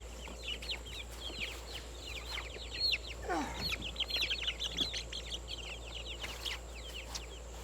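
Plymouth Blue Rock hens cluck and chatter inside a cheap homemade chicken tractor, a busy stream of soft overlapping clucks with a few sharper calls, fairly close.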